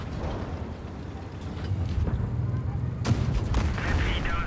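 Tank shells striking and glancing off the armor of a Czech Škoda T 45 tank in World of Tanks Blitz, sharp metallic impacts with one loud hit near the middle over a steady engine rumble and battle noise.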